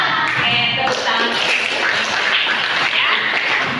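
Junior high students in an Indonesian classroom clap their hands together, a steady dense patter of many hands at close range with faint voices underneath.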